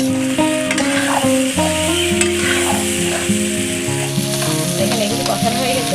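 Young jackfruit sautés in a pan with a loud, steady sizzle and frying crackle, stirred continuously, while background music plays beneath.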